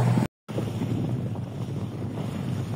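Steady wind rushes over the microphone on a sailboat under way, with a continuous roar of moving air and water, after a brief dropout near the start.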